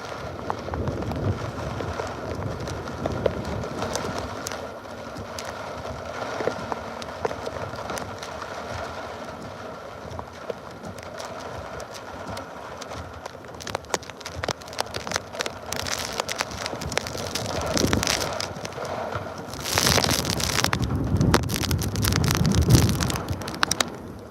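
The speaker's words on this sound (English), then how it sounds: "the winds are really picking up now" Strong hurricane wind gusts roar steadily from Hurricane Helene's eyewall, with rain rattling on surfaces and a louder surge of wind near the end.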